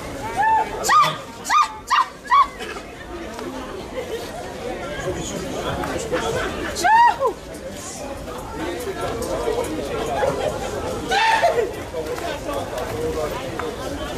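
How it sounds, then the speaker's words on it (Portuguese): A dog lets out a quick series of sharp barks, then a few more scattered yips, near and loud over continuous crowd chatter and talking. "Minha cachorro lá, o Aguaco."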